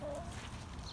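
Chickens cluck close by in a busy, continuous chorus over a noisy outdoor background, with no talking.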